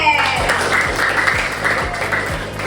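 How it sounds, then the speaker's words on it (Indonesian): Classroom applause from the students of class 7C during a coding and artificial intelligence lesson, a steady wash of clapping over a backing music loop with a repeating beat. "great job. Tepuk tangan."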